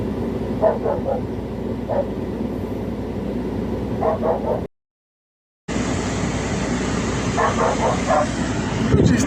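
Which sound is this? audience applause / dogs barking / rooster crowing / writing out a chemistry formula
dogs barking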